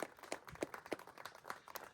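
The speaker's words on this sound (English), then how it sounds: "let's have a massive round of applause to show our love and support" Wedding guests applaud together, a dense crowd of hand claps spreading across the room and staying steady at moderate loudness throughout.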